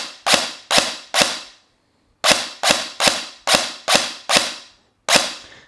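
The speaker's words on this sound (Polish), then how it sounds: "Więc naciskam na spust, padł strzał teraz" Sharp, loud single shots from a WE01A CQB airsoft carbine replica, fired in a quick run of three, then six, then one more after brief pauses.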